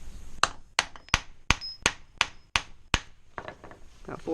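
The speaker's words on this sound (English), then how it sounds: "I'm going to take my hammer." A hammer strikes a grommet hole punch tool set on a tarp, with about nine sharp, evenly spaced metallic blows in quick succession, close and distinct, followed by softer handling clatter.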